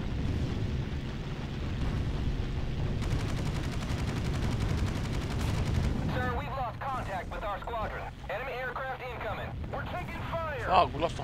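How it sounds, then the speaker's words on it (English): Gunfire and explosions in the naval air combat game Battlestations Pacific, a dense, loud barrage of rapid shots and rumbling blasts filling the first half, then continuing under a radio-style voice. "Enemy fire is being directed at us."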